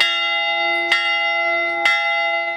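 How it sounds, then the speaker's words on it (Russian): Two resonant church bell strikes about a second apart, part of a 75-stroke memorial toll at a war memorial mound, each ringing out with a long sustained hum between them, no voices. "75 ударов колокола."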